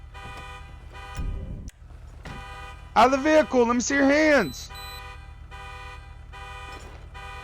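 A car horn sounding in steady repeated beeps from a crashed stolen Chevy Silverado pickup, with a loud shouted voice over it midway and engine hum beneath.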